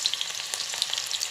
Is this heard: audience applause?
no